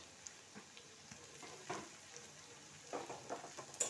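Onions frying lightly in a pan with a spoonful of ginger-garlic paste for a yogurt tarka soya curry, a faint soft sizzle with occasional spoon scrapes and stirring, quiet and close.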